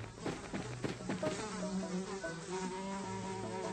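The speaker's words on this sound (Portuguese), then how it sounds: "isso vai espantar todas as moscas" Cartoon flies buzzing in a steady, continuous drone over background music, loud and close throughout with no talking.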